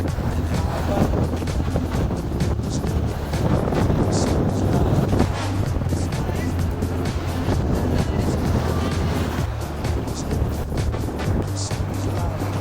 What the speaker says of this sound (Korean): 아, 바람 진짜 심하다